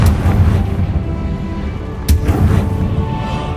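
Confringo explosive fire spell blast in the video game Hogwarts Legacy, a sharp boom around the two-second mark over a rumbling combat backdrop, with a second softer impact following shortly after.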